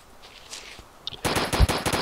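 Gunfire in the video game ArmA II: after a quiet stretch with faint noise, a loud rapid automatic burst breaks in and continues to the end, close and dense.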